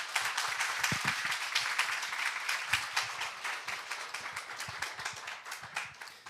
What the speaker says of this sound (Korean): 우리 나오실 때 힘찬 박수로 환영하겠습니다.